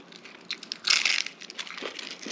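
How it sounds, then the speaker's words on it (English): Close, crisp crunching as a fried egg roll is bitten, with a loud crackly burst followed by smaller crunches while chewing. "You hear the crunch?"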